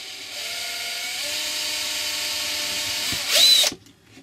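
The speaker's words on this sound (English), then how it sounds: "I drill a hole here too, so I have two holes." Small power drill boring a hole in a Halloween spider craft piece, a thin whirring motor whine that holds steady, then bites in with a brief louder grinding burst before stopping.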